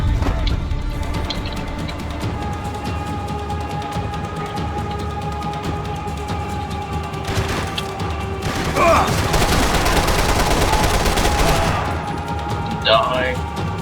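Gunfire rattles through a Max Payne 3 shootout in bursts of rapid shots, loudest in a sustained volley toward the middle, with a voice speaking briefly among the shots.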